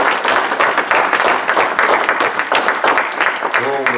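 A church congregation claps in praise to the Lord in a rapid, rhythmic burst of close, loud hand claps, with voices calling out beneath and a voice rising at the end.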